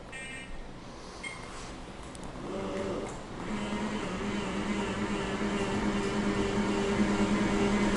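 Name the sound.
Jazzy 1103 Ultra power chair seat lift lowering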